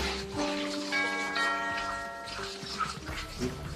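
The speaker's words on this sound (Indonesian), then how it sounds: "Saat tengah sibuk-sibuknya ia pun mendengar bel rumahnya yang berbunyi." A house doorbell in a Korean film setting sounds a sustained, ringing two-note chime that overlaps and fades over a few seconds against a low background hum.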